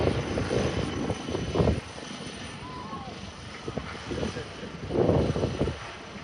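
Helicopter flying a display at Farnborough Airshow, its engine and rotor noise swelling and fading as it manoeuvres at a distance, under a commentator speaking over a public address.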